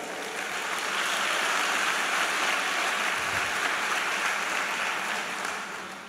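A church congregation applauds together, a broad, even wash of clapping that swells in, holds steady and fades slightly at the end, with no speech.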